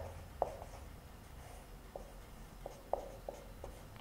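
Chalk or a marker writes on a board in a room. It gives a few faint, scattered taps and short strokes with quiet room noise in between.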